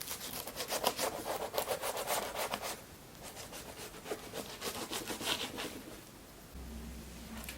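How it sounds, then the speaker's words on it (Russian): A knife saws through a homemade cabbage pie, cutting it into portions. Steady rhythmic rasping strokes run for several seconds, then give way to a low hum near the end. "Режем на порционные куски."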